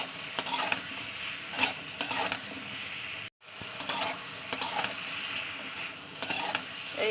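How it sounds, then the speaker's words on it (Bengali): Spices or ingredients being stirred and sautéed in oil in a pan for a Bengali home-cooked dish, with a steady sizzle and repeated scraping strokes throughout, close and moderately loud, broken by one brief pause. "বেশিক্ষণ নয়, 2 থেকে 3 মিনিট একটু সাদলা নেবো তেলের সঙ্গে।"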